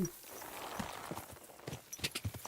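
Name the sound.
horse hooves clip-clopping in Kingdom Come: Deliverance II video game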